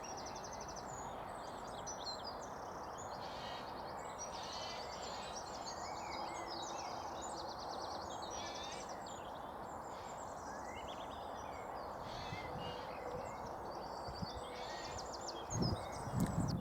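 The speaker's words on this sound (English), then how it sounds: "You know, I could just sit here and listen to the birds" Birds chirp and sing steadily in the quiet open air of an allotment garden, faint and some distance away, with a brief rustle near the end.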